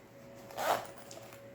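Zipper slider being fitted onto a zipper with trimmed teeth while sewing a small crossbody bag: a single brief, close scraping zip peaking mid-clip, otherwise quiet.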